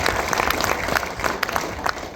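A crowd at The Rialto in Casper claps and cheers steadily for the bar staff, a dense wash of applause with scattered whoops throughout.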